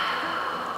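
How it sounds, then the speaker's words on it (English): A short, breathy open-mouthed exhale forced out in a yoga lion's breath, an airy hiss without voiced tone, close and lasting under a second. "you make a ha sound like this."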